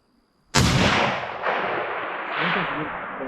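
A single 300 Win Mag sniper rifle shot cracks loudly and suddenly, then a long rolling echo booms and trails away outdoors.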